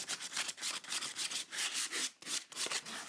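Rhythmic back-and-forth sanding strokes rasp against a surface, close by and fairly quiet, with brief pauses between strokes.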